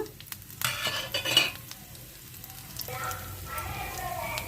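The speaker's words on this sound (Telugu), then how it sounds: "అందులో బిర్యానీ ఆకు కొంచెం జీలకర్ర వేసుకుందాము" Bay leaf and cumin seeds hit reused potato-frying oil with a soft sizzle, mixed with brief clinks and stirring scrapes of a utensil in the pan.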